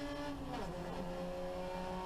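Racing saloon car engine heard from inside the car, a steady loud drone with shifting harmonic tones as revs rise and fall, continuous throughout with no talk.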